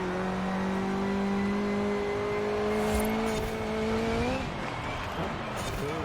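A car engine roars from inside the cabin in Forza Horizon 4 during a dirt race, a steady droning tone that climbs slightly before shifting gears, loud and continuous with no talk.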